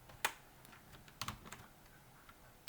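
Keys on a computer keyboard are tapped quietly and irregularly, a few sharper clicks standing out among soft, scattered keystrokes nearby.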